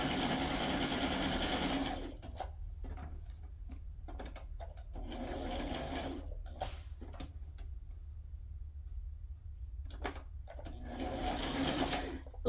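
Sewing machine stitching a zigzag around a handmade fabric journal tag, running in steady bursts of rapid mechanical ticking with brief pauses between runs, close and clear with no talk.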